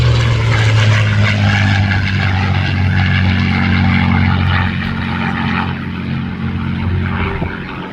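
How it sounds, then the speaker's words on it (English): P-51 Mustang warbird at a Southern California airshow, a loud propeller engine drone with a strong steady low hum that fades slightly as the plane passes by. "The iconic P-51 King Mustang."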